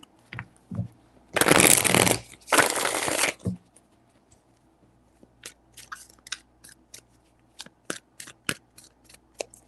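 Tarot cards being shuffled by hand in two dense riffling bursts close to the mic, then lighter scattered taps and flicks as the deck is handled.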